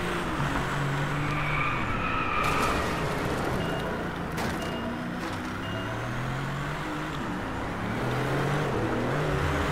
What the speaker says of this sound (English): Gravel's trying to make me drift